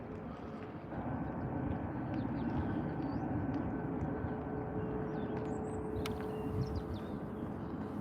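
An airliner taking off from Liverpool John Lennon Airport for Geneva, a broad sustained jet roar that swells after the first second and holds steady, distant but loud, with faint birdsong over it.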